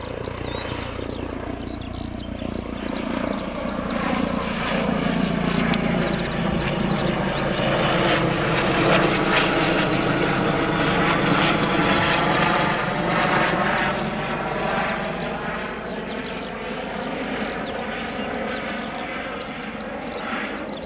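An aircraft departing runway 25 at Newcastle Airport in the evening, a loud sustained engine roar that swells and then slowly fades, with whining tones rising and falling throughout.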